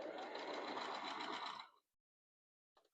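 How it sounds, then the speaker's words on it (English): A sewing machine stitches fabric in a steady, close mechanical whir for about a second and a half. It then stops dead, followed by silence and a brief faint click at the end. "We're going to sew, stop, needle in, foot up, turn the fabric, foot down, sew"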